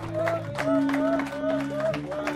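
Worshippers at a Sunday morning prayer service clap for the Lord in a steady, even beat, the clapping held under a sustained organ-like drone and a melodic sung line, with no speech.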